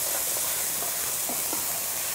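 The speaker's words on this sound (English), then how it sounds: "I'm going to get that good and stirred up so that the onion starts steaming." Chopped onion for stuffed bell peppers sizzles and steams in a hot pan, a steady broadband hiss with faint stirring clicks, continuous and close, with no speech.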